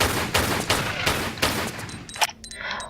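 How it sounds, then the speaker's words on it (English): Pistol shots from the Tomb Raider video game fire at an approaching crocodile, four or five loud evenly spaced bangs followed by a short splash-like burst. "Draw guns and shoot the crocodile that's coming towards you."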